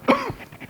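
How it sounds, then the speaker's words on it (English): A man coughs once, sharp and close, during a lecture, followed by a faint throat clear, with no talk over it. "while he's coughing"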